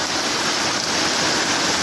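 Rainwater rushes off a road into a gutter and gully, a loud continuous gushing and splashing flow heard up close, steady and without pauses.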